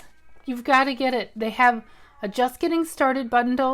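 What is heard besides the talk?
cat meowing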